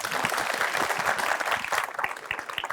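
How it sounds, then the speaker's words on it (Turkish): A studio audience at a Turkish talk event applauds, the clapping full at first and then thinning into scattered, distinct claps toward the end. "Bir alkış rica ediyorum"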